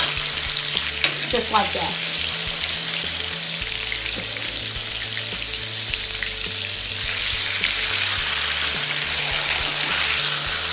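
Thick steaks laid into a hot pan sizzle and fry steadily throughout, loud and continuous, with brief faint clinks from handling.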